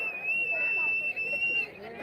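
Spectators whistle at a wrestling bout between Maharashtra's Sikander Sheikh and an Iranian opponent; one shrill, steady whistle holds for under two seconds above a crowd's babble, with voices talking underneath.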